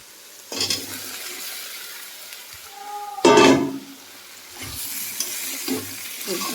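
Vegetables are tipped into a hot pan and stir-fried over lowered flame, a loud sudden sizzle burst in the middle amid scattered scraping stirs and softer frying hiss.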